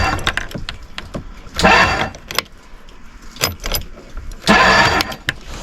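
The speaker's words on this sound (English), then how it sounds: "I got my key in and we're just going to crank it for a couple of seconds." A Mercury outboard engine on a Tracker Pro Team 175 boat cranks with the key in two bursts of starter churning, close and loud. Clicks and rattles come between the bursts.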